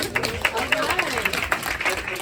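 Short burst of audience applause in a conference room at a community safety meeting, sharp claps close by with crowd noise and voices mixed in.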